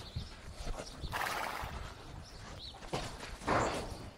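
Horses at a stable, with hooves clip-clopping on the ground and short whinnies and snorts, close by and moderately loud over faint background noise.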